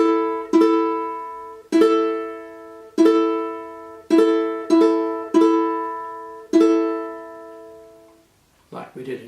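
Two ukuleles in a classroom lesson play two different exercises together as a duet, about seven bright plucked chords that ring out and decay one after another, close and clear, with a brief rustle at the end.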